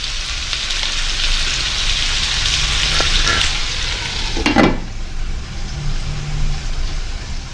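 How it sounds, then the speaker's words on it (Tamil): Tomato and pumpkin pieces sauté in a pan for sambar, giving a loud, continuous frying hiss with a single sharp scrape of a spoon midway. After that the sizzle turns more muffled and subdued. No talking. "இந்த தக்காளி இந்த பூசணி எல்லாம் இப்போ நல்லா வதங்கிட்டுது"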